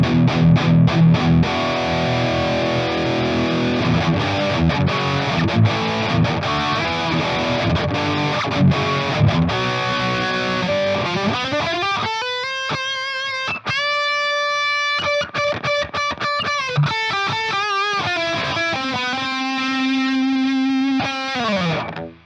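Modded beginner electric guitar on a high-gain metal tone through the bridge pickup, dense palm-muted chugging riffs giving way to sustained wailing lead notes, loud and upfront throughout with no voices.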